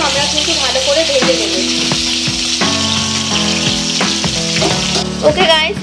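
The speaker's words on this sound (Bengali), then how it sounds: "এইভাবে কিন্তু মাছগুলোকে একটু কড়া করে ভেজে নিতে হবে" Pieces of fish fry crisply in hot oil in a Bengali kitchen, giving a loud continuous sizzle and crackle with stirring, while a voice speaks in the background.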